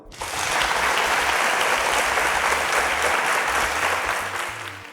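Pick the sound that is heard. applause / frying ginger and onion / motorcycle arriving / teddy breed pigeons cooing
applause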